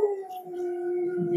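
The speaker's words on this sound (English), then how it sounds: "There's my dog." Dog howling outdoors in an open field, one sustained, wavering howl held for the whole moment, fairly close and clear with no other voices.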